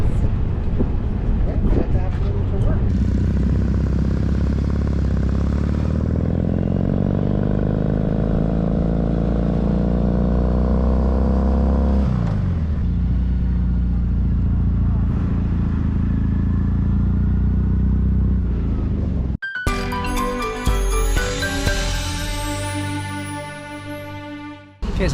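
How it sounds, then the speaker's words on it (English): A motorcycle rides along a road on Vancouver Island, its engine droning and rising and falling in pitch through gear changes for about twenty seconds, then cutting to a brighter burst of clattering sound near the end. "So another reason to bring your motorcycle onto Vancouver Island."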